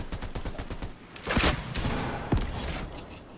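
Rapid bursts of gunfire in a Fortnite match, a crackling volley of close shots with a couple of sharper, louder cracks standing out, heard without talk.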